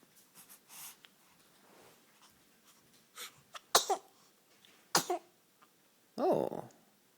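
A baby sneezes close by, a few small sharp bursts and snuffly breaths scattered among soft rustling.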